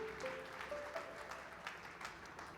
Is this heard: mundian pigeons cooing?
no